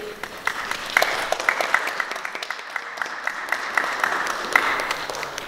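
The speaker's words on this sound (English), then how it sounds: "I'm gonna clap for myself anyway." Applause from an audience at a film festival talk, steady clapping of a small-to-medium crowd with sharp individual claps standing out near the front, continuing throughout.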